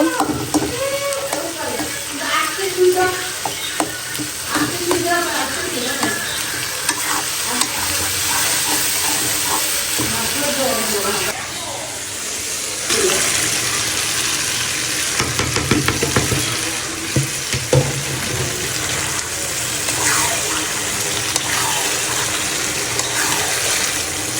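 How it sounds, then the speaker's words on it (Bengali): Meat being fried bhuna-style with tomato in a pan, a steady crackling sizzle with stirring and scraping throughout, close and continuous, with a brief wetter rush midway. "সবাই টমেটো দিয়ে মাংস বোনা করে দিব"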